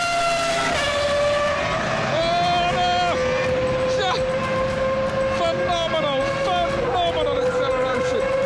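A Williams Formula One car launches from a standing start, its high-pitched engine screaming loud and close as it snaps through several rapid upshifts, with a voice talking over the roar.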